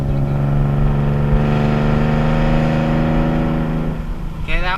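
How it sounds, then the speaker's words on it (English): A car engine pulls steadily after a downshift into third gear, its droning hum holding loud and close for several seconds before easing slightly near the end. "I'm gonna drop down to third and accelerate a little bit."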